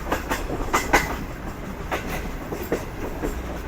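The Pak Business Express passenger train runs on rails near Hyderabad, Pakistan, with steady rumbling wheel noise and a rhythmic clickety-clack of wheels over rail joints, heard from on board.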